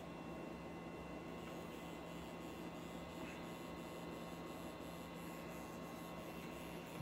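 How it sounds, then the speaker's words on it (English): A heat gun blowing hot air while working on a Nintendo Game & Watch, a steady broadband whoosh with a constant electrical hum underneath, faint and unchanging, with no talking. "apply heat with the heat gun"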